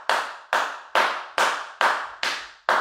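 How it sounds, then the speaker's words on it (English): Seven loud, sharp single claps in a steady, evenly spaced rhythm, each ringing briefly in a reverberant space before the next. "Clap on yourself."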